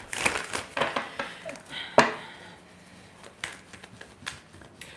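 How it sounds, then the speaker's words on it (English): Tarot cards being shuffled in the hands, a string of quick riffling and slapping bursts with one sharp snap near the middle, then softer scattered taps, close and fairly faint, with no talking. "One more shuffle, they said."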